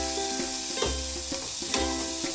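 Dalia and washed masoor lentils go into a pan and are stirred, giving a soft sizzle with a few scraping, knocking stir strokes at an uneven pace and no voices.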